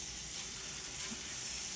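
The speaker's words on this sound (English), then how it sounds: "So you can kind of hear that sizzling" Butter sizzles in a preheated pan for an omelet, a steady close hiss of frying without pause.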